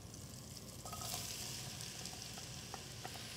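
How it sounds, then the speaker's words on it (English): Diced onions and apples frying in a pan as they are stirred, a soft, steady sizzle with light scraping and a few small taps, fairly faint and without talk. "we're gonna add in our diced onions. Stir those around. Then our diced apples as well"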